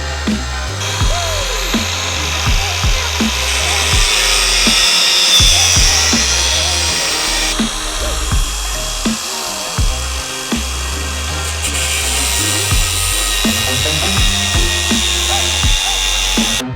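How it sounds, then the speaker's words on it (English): A grinder sands the frame of a KTM 690 Enduro R motorcycle during rally kit installation, producing a steady, loud, high-pitched whine that runs throughout with small shifts in pitch as it bites into the metal. "Be cautious to prevent the protective materials around the frame from the getting caught in the grinder as you can."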